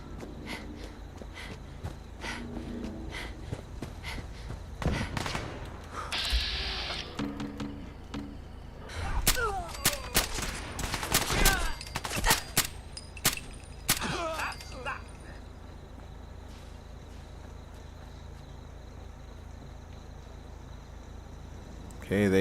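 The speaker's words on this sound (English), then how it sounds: "I still hear fighting." Battle in Fallout 4 with bursts of gunfire and impacts clustered in the middle of the stretch, loud volleys rising over a steady game background and then thinning out into quieter ambience.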